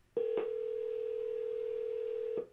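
A Google Home smart speaker places a hands-free phone call, giving a short click and then a steady, clear single-pitch dialing tone lasting about two seconds, quiet and alone, ending with another click.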